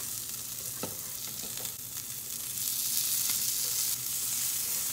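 Sausage sizzling and spitting grease in a frying pan on a home stove, a steady close crackle with a few louder pops, and no talk over it.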